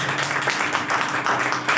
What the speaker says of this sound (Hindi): आइए हम लोग ताली मारें।